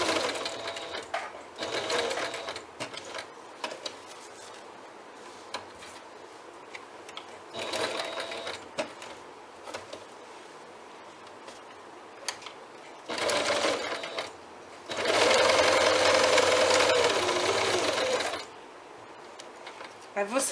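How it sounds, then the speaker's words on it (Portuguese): A sewing machine stitches a straight seam across fabric quilt blocks in short bursts, then a longer steady run of whirring needle clatter, with quiet pauses between. "faço essa costura reta em todos os blocos escuros"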